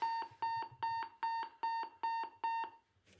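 HANDEL nuclear warning system speaker sounding its call tone for a routine peacetime call to an RSC post: eight rapid, evenly spaced electronic beeps, loud and harmonically rich, heard alone with no talk.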